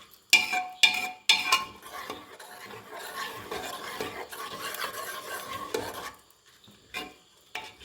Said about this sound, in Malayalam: ഇതെല്ലാം കൂടെ നല്ലവണ്ണം ഇളക്കി യോജിപ്പിച്ച് ഈ ചവ്വരിയെല്ലാം ഒന്ന് വേകണം